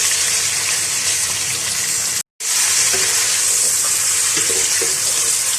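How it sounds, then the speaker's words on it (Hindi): Loud, steady sizzling of goat meat frying in a hot pan for balti gosht, with scraping stir sounds throughout and a brief dropout partway through. "और अब मैं इसको फ्राई करूंगी"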